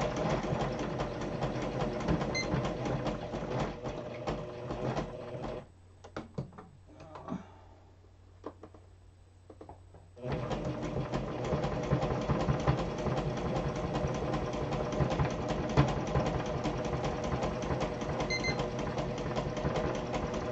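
A sewing machine stitches tags made from scrap fabric, a loud close mechanical whir with a fast steady needle rhythm that stops for a few seconds midway and then runs again continuously.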